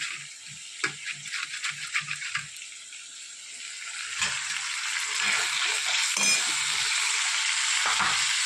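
Onions and chana dal with masala stirred in hot oil, with a steady close sizzle and intermittent scraping taps of a spoon against the pan.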